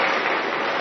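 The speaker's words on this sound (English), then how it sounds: "Can you give him a round of applause?" Dense, steady applause fills the hall from an audience at a primary school launch, a continuous wash of many hands clapping with no voices above it.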